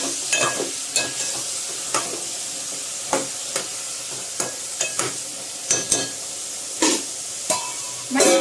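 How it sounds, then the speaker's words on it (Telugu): Eggplants and chillies fry in a pan with a steady soft sizzle, broken by repeated sharp scraping knocks as a spoon stirs them, close and regular. "ఇవి మొత్తానికి బాగా పచ్చివాసన పోయేంత వరకు బాగా వేగాలి కొద్దిగా ఒక రెండు మూడు మిర్చి కూడా యాడ్ చేసేస్తున్నాను"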